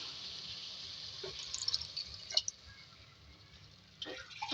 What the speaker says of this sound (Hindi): अब जो है इसमें थोड़ा सा पानी ऐड करेंगे